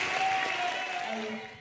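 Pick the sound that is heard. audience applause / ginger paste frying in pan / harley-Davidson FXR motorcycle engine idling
audience applause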